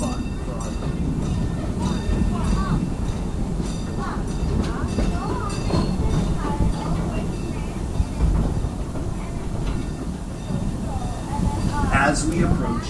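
The red Busch Gardens Railway train rolls along its tracks with a steady rumble and faint clicking, while a voice talks over the ride and occasional squeaks rise near the end.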